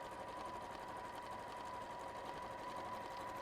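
A sewing machine stitches fabric for a bag with a lengthened stitch, running as a steady, continuous whirr with a fine rapid needle pulse throughout, close and fairly quiet, with no talk over it.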